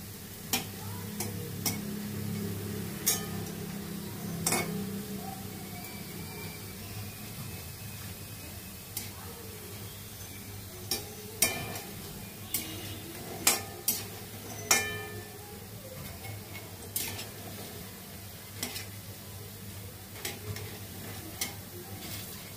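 Lentil fritters (dal bora) fry in oil in a pan for a banana flower ghonto, a soft, steady sizzle broken by sharp, scattered pops and clicks over about twenty seconds, with no one speaking.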